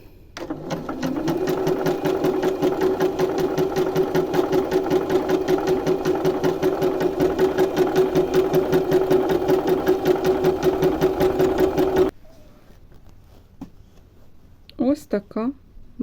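A sewing machine runs steadily for about twelve seconds, sewing decorative stitch number 34, a cross-stitch-like pattern, down the centre front of an embroidered shirt. It hums close and loud with a rapid needle rhythm, then stops, and a voice speaks briefly afterward.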